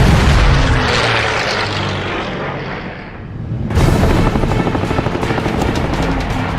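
Roaring WWII fighter propeller engines during an aerial dogfight involving a Messerschmitt 109, loud and continuous, dipping briefly before surging back with rattling, gunfire-like bursts.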